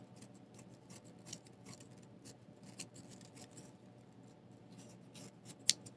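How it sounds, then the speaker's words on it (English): Scissors snip off a piece of material during a home-decor craft project, making soft, repeated little cuts and ticks, fairly quiet and close, with one sharper click near the end and no speech. "I'm going to cut off a little bit of it."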